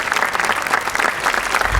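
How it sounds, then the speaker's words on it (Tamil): A studio audience on a Sun TV show applauds the daughters-in-law, a burst of dense, lively clapping close by that holds steady for the whole moment. "அதுக்காக ஒரு பெரிய கைத்தட்டல் கொடுத்துலாமே"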